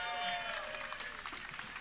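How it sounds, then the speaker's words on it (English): Audience at a convention gaming tournament applauding, a faint, steady patter of clapping from a crowd. "You can keep clapping."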